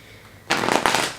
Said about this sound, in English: I'm going to shuffle again, though, just because I didn't like how it came out.